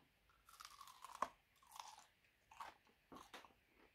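Someone bites into air-fried chicken-breast nuggets, giving four or five sharp, crisp crunches spaced across a few seconds. The crunches are close and quiet, with near silence between them.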